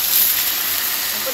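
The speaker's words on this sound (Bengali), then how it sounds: "জল দিয়ে দিলাম" Water poured into a hot pan of sautéed curry, giving a sudden loud, steady steaming hiss close by, brief and continuous.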